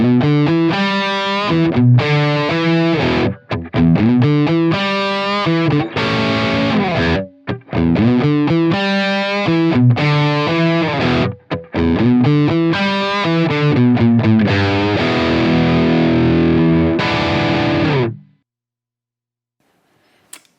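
An electric guitar plays through a Fractal FM3 with an impulse response, giving a loud, sustained distorted tone in chords and riffs with brief gaps, then it cuts off into silence near the end.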